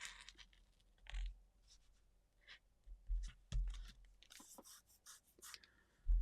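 A Posca paint marker strokes across paper in short, faint scratchy passes, with brief pauses between lines and a few louder soft bumps.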